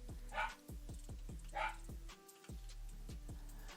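A dog barks twice in the background, separate yips about a second apart and fairly faint, over a steady repeating tonal pattern.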